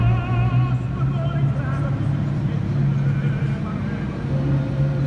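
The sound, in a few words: Ferrari 250 TR replica sports racing car engine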